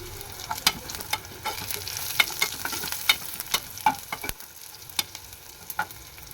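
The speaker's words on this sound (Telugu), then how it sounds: "ఇప్పుడు ఎండుమిర్చి వేసుకున్నాము." Dry red chillies fry in a pan for dal rasam, with onion and curry leaves in the oil, giving a soft continuous sizzle broken by close scraping and stirring clicks, with no voices.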